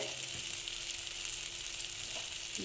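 Chili powder and spices frying in hot oil for aloo dum, a steady close sizzle that holds evenly throughout with a faint stir or two and no talking.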